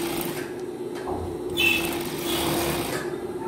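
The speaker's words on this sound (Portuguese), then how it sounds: "Vou prender o acabamento dos dois lados, tá? Agora eu costuro do outro lado também." Overlock sewing machine stitching binding onto the edges of fabric, a steady fast mechanical whir running throughout with a slight rise in the middle, close and fairly loud.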